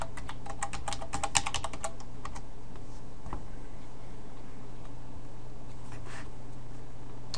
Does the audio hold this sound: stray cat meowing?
no